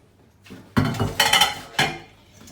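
Cooled corned beef goes into a bowl, a few short clattering knocks of utensil against the bowl, close and loud in a quiet kitchen.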